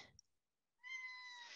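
A short, faint meow from a cat comes after a brief moment of quiet, with a soft click near the start.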